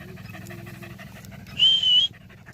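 A dog pants rapidly and steadily up close, followed by a brief high-pitched whine near the end.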